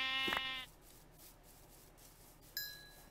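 A sheep in the Minecraft video game gives one loud bleat at the start, followed by quiet background and a short bright chime near the end.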